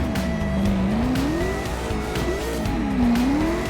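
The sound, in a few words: car drifting in video game CarX Drift Racing Online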